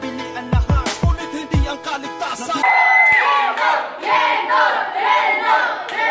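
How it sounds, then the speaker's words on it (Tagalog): A rap battle crowd bursts into loud cheering and whooping after a few sharp percussive hits, the noisy roar swelling and continuing to the end. "mag-ingay para kay Yendor"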